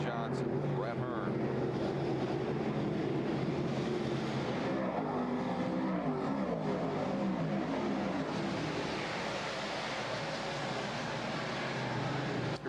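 Dirt modified race cars roar around the Syracuse fairgrounds track during the 1996 Fay's 300, engines droning and swelling as they battle for position, a loud continuous blur of motors under commentary.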